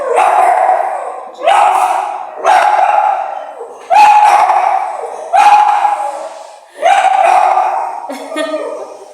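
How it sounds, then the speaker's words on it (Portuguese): A dog barks and howls loudly nearby in about six drawn-out bursts, each trailing off before the next. "O Leonardo é o cachorro, deixa ele."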